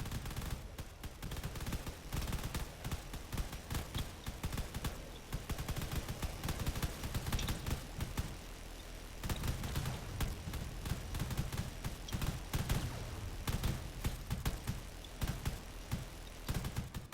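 Rapid bursts of gunfire and large explosions crackle continuously in a drone battle video game, with dense repeated blasts at a moderate, steady level.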